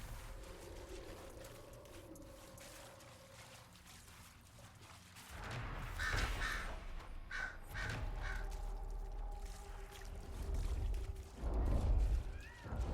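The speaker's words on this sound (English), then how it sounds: "Those are some loud birds" Loud crow-like cawing from birds in Dragon Age Inquisition rises after a quieter stretch, several harsh calls repeating over deep rumbling game ambience toward the end.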